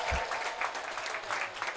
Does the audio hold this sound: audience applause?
yes